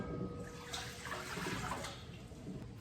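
Water poured into a pot for pickling brine, a faint continuous splashing gush that carries on steadily before easing slightly toward the end.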